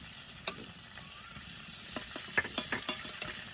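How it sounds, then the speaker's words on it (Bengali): Freshwater prawns frying lightly in a pan for malai curry, with a soft steady sizzle and a few sharp clicks and taps of a utensil against the pan, no voices. "মালাইকারি করলে একদম হালকা ভাজতে হয় চিংড়ি মাছ।"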